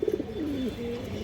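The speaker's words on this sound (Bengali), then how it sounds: "একদম পিওর খাঁটি গিরিবাস কালো গলা কবুতর" A pure Giribaz black-necked pigeon gives a short, soft coo, a couple of quick pulses sliding into a drawn-out, falling note, close and fairly quiet.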